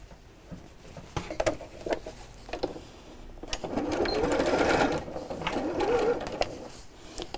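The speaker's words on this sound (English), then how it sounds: "we'll sew straight across here" A sewing machine stitches straight across fabric seams while making a storage box, with short clicking bursts early and then a longer steady whirring run of rapid needle strokes, close and moderately loud, no talking.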